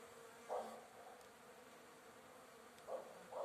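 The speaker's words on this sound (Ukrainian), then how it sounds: "Ось так наші бджілки літають." Honeybees fly around the hives at an apiary on a mild winter day, with a few faint individual buzzes passing close by over a quiet outdoor background.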